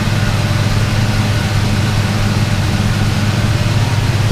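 A twin-turbo LS V8 with a newly fitted exhaust idles steadily, a loud, even low rumble with a constant throb and no revving, running alone without voices.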